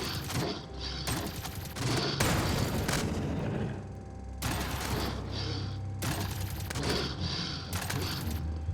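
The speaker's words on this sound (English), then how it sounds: "We'll start firing and start moving." Sustained bursts of gunfire from Jupiter Hell, a turn-based shooter game, come in dense loud volleys broken by short pauses, with mechanical clatter and booming impacts mixed in and no talking.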